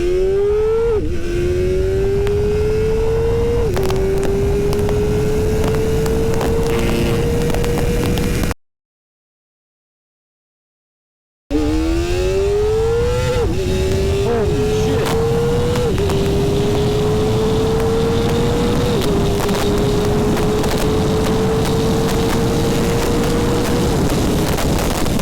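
Kawasaki Ninja ZX-4RR motorcycle with tuned ECU and traction control off pulls at full power up to redline, engine note climbing steadily through the gears with two runs separated by a gap of silence, loud and close with wind rush.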